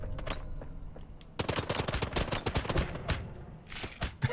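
Rapid bursts of gunfire from a gun in the video game Blacktrace open after about a second of quiet rumble, then crackle in loud, uneven volleys right up close with no voices.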